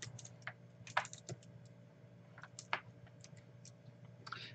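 Soft, quick keystrokes on a computer keyboard as a password is typed, irregular clicks in short bursts over a low background hum, close and faint with no speech.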